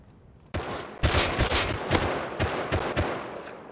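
Rapid gunfire from a firefight in the survival game Rust, with several loud bursts of automatic shots cracking out over about three seconds after a quiet start, and no talking.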